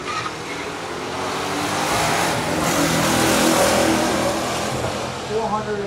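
A 1967 GTO and a 1972 Chevelle 454 roaring side by side in a stock drag race, a loud rising engine rush that swells and holds before easing, with a voice talking over it.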